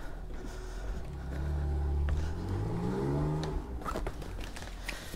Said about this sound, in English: You can't beat the sound of an air-cooled Porsche.